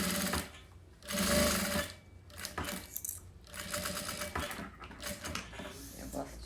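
A sewing machine stitches a wallet in several loud bursts of rapid mechanical running, with short pauses between runs and a few clicks, while someone talks over parts of it.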